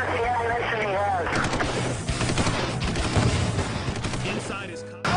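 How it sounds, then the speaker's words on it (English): Dense volleys of law enforcement gunfire aimed at an armored bulldozer crackle almost continuously with sharp overlapping reports, mixed with voices throughout. "law enforcement tried to stop Heemeyer and his dozer with volleys of gunfire"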